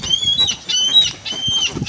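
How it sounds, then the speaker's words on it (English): A flock of hungry birds being fed bread slices, heard up close as a quick run of chirps, calls and flapping wings with no talking over them. "It's a lot of birds."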